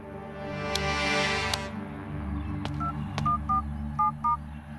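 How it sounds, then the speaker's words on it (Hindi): A short series of beeping telephone dial tones, evenly spaced, heard over a low steady hum. "अपने भाई को फोन लगाओ,"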